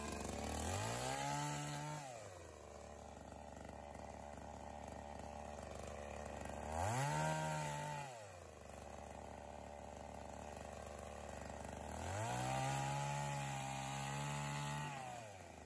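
A chainsaw with a loose chain revs hard three times, its engine pitch rising as it bites into wood, then dropping back to a steady idle between cuts, in a rural Bulgarian garden.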